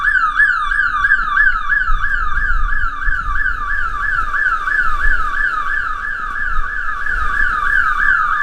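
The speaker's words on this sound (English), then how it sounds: "I opened that garage door to go in there and check on the garage, and the alarm went off" A house security alarm blares after a garage door is opened, a loud, continuous electronic warble repeating in rapid regular cycles, close and steady throughout with no voices.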